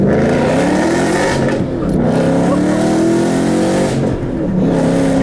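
A 2013 Ford Mustang GT's engine revs up hard under acceleration, its steady, loud drone rising in pitch through the gears with a brief dip as it shifts, filling the cabin continuously.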